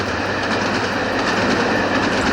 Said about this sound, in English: the moving items are just because the trains are coming by